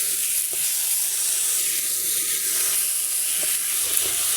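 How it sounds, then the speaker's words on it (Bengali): Steady hissing sizzle of carrot halwa cooking in a pan as powdered milk is stirred in, with soft scraping strokes of the spoon breaking through the continuous frying noise. "এখন ভালোভাবে গুঁড়ো দুধটা মিশিয়ে নেব হালুয়ার সাথে।"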